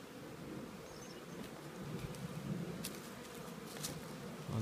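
Honey bees hum around an open nuc hive during an inspection, a faint, continuous buzzing drone with occasional light knocks and rustles of handling, fairly quiet throughout.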